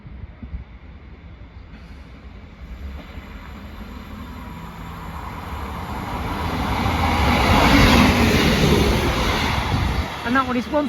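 A delayed Northern class 158 diesel unit, 158845, on a Carlisle to Morpeth service passes through Corbridge station, its rumble swelling to a loud peak then easing, with someone talking over it.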